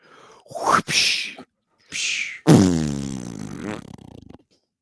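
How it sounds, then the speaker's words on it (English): A person gasps and inhales in a few sharp breaths, then lets out a loud, drawn-out sneeze with a voiced, wavering tail, heard very close. "Hold on, I'm going to sneeze."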